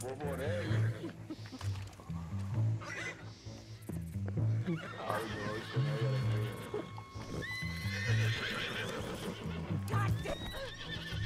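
A horse in the video game Red Dead Redemption 2: repeated clip-clop hoofbeats with loud neighs and snorts, while people talk over it throughout.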